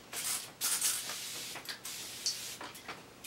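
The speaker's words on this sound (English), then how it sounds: "I'm just going to use a facial spray to rehydrate the face." Several short, close hissing sprays from a hydrating facial mist pump bottle, a few quick puffs in uneven succession with brief pauses between.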